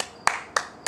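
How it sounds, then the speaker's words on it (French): Three sharp, separate hand claps at an even, unhurried rhythm, close and clear in a quiet room, marking a group's self-applause at the end of an arm workout session. "Et on s'applaudit."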